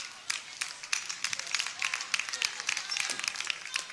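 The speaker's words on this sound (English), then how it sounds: "Good round of applause for Alyssa Fitzpatrick." Applause for a free throw at a high school girls' basketball game in a gym, a burst of scattered hand clapping from the crowd that continues steadily throughout, fairly close.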